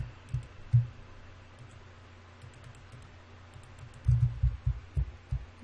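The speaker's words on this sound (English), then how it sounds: "I'm sorry if you could hear my keyboard" Computer keyboard keys clicking during a Minecraft SkyWars game session, sparse soft taps at first, then a faster cluster of louder presses near the end, close to the microphone with no talk.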